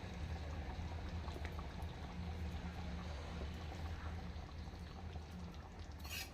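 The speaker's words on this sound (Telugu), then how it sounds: "ఓన్లీ ఒక 10 మినిట్స్ పులుసు మరిగితే సరిపోతుందండి" Tamarind stew (pulusu) with ridge gourd simmering in a pot, giving a steady close bubbling and hissing that carries on evenly throughout, with no talking over it.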